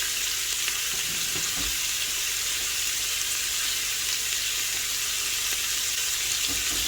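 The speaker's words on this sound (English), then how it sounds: "we want to cook these down just long enough to get them, the onions, a little bit translucent to release the flavors" Onions frying in a pan give off a steady, close hiss and sizzle, with a few faint stirring knocks scattered through it and no talking.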